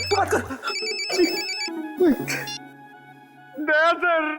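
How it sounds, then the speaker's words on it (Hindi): A mobile phone rings in a TV crime drama scene, an electronic tone repeating in short bursts between and under people talking. "तेरा फोन बज रहा है।"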